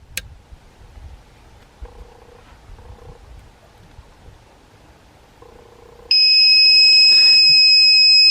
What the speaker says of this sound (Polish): dosłownie na sekundę puściła i rozlega się dźwięk, po prostu moc została przekroczona